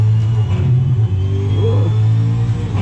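A car engine in a sim racing game, held at a loud, steady high rev with a strong droning hum and a brief dip mid-way, heard up close with no talking.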